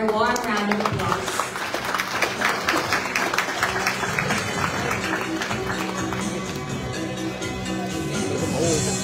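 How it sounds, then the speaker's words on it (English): Audience applause at an awards ceremony held before a chamber of commerce, moderate clapping from a crowd with people talking over and around it. "Let's give them a warm round of applause"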